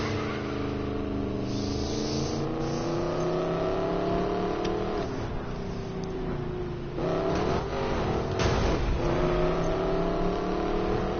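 Car engine in a racing video game revs continuously, its pitch rising and dipping through gear changes, loud and steady with brief throttle lifts and no talk.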